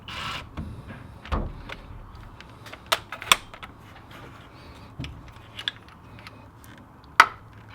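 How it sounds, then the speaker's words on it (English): Tensioner pulley assembly coming off a Toyota LandCruiser 1HZ/1HD-T/1HD-FTE diesel engine during a timing belt change: scattered metallic clicks, a ratchet-like rattle and sharp clanks, close and moderately loud, with a hard knock near the end. "Okay, so now we'll pull out the tensioner assembly. Pull out the pulley for starters."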